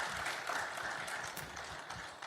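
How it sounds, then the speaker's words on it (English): Audience applause at a business breakfast meeting on access to finance, a short dense wash of clapping from a room of people, steady and moderately distant, without talk. "Please, a round of applause for him."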